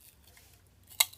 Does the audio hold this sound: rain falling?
no